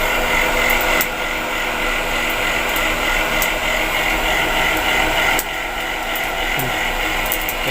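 A conveyor elevator motor loading bags hums and whines steadily with a ratcheting mechanical clatter and occasional sharp clicks, a continuous close machine drone with no speech.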